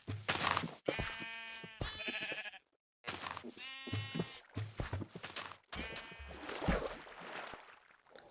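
A naturally spawned Minecraft sheep bleats several times in loud, wavering cries on an island world, with short gaps between calls and no talking.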